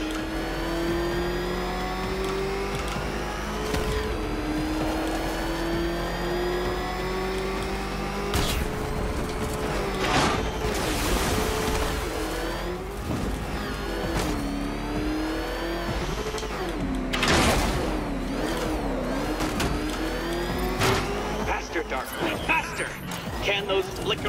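Batmobile engine from Batman: Arkham Knight revving and racing continuously, with rising and falling pitch sweeps, bursts of tire squeal and skidding, loud and close, with a voice talking over it.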